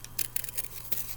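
Scissors snip paper into round eyeball shapes, making several short close crisp cuts in quick uneven succession.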